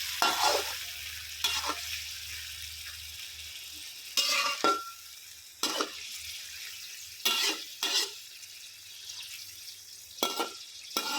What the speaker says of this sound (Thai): เอาไปผัดกับกระเทียมนะคะ